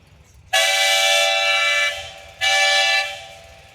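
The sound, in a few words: steam whistle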